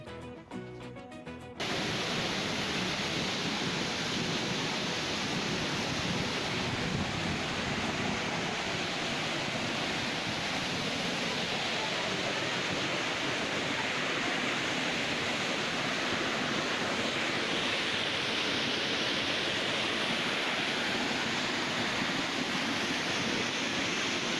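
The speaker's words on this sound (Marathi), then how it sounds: "प्रचंड उंचावरून कोसळणाऱ्या पाण्याचा जलप्रपात मानवी पुलावरून उभे राहून पाहणे हे काही वेगळीच मजा आहे" A monsoon waterfall at Bhandardara, Maharashtra, plunging from a great height and heard from a bridge, makes a loud, steady broadband roar that stays unbroken throughout, with no voices over it.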